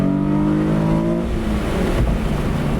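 A Nissan 350Z NISMO accelerates hard during a full-throttle pull, its engine note loud and close with rising harmonics through the first second, then a rough, broadband roar as the revs climb, with no talking.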